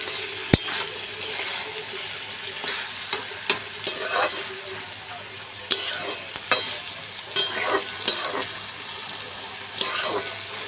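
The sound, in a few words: stirring and frying lau shak chochori in a pan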